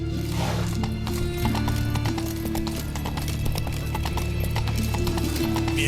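Horse hooves clip-clopping in The Witcher 3 video game, a steady, close rhythmic clatter of hoofbeats over a continuous game soundtrack.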